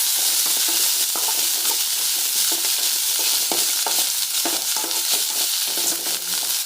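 Onions, green chillies and curry leaves sauté in a pan with a steady, dense sizzle that runs throughout, broken by frequent clicks and scrapes of stirring.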